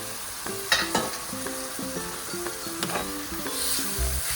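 Noodles are stirred and fried in a hot pan for a Kurkure spring roll filling with soy sauce, giving a continuous soft sizzle broken by repeated scraping and clinking strokes of the utensil, close and fairly quiet.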